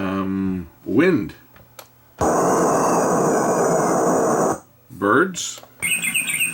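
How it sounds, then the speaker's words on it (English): A Boing Box sound-effects unit plays its wind effect, a steady broad rushing whoosh lasting a couple of seconds, set between short bursts of nearby talk. "Wind."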